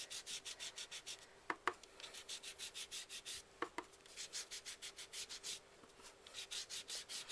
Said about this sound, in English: use a dauber, and we're just going to rub it on it. Just rubbing it.